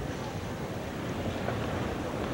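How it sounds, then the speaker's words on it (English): Gusting wind buffets an outdoor tennis court during a 1985 US Open match, a steady broadband roar with rumbling microphone buffeting that stays loud and continuous throughout, with no voices. "the wind has uh, begun to gust even more seriously"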